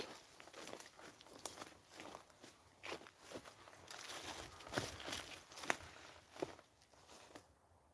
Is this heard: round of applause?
no